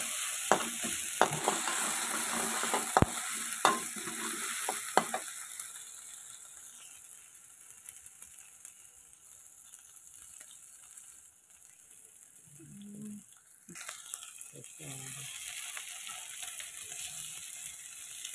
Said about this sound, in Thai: นี่นะคะผัดให้หอม